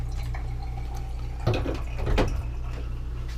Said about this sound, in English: Premium shower with an on-off switch on your shower head.